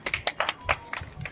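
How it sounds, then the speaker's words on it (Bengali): Audience claps for a child performer at a school Holi celebration, a sparse run of separate hand claps spread over a moment, moderately close and fairly light. "জোরদার তালিয়া রুহি কে লিয়ে"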